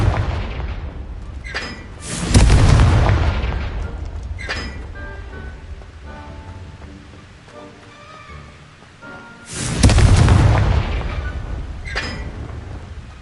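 Confringo blasting spell explosions in the Hogwarts Legacy video game: two loud, booming blasts a few seconds apart, each with a rumbling tail, among quieter game ambience and small effects.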